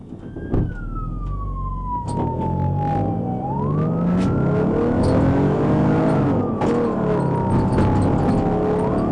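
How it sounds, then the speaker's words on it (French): A Michigan police pursuit of a suspect car doing 70 mph on the wrong side of the road: a loud wailing, sweeping siren rises and falls over a heavy, close engine roar. "Il roule à 70 miles à l'heure du mauvais côté de la route"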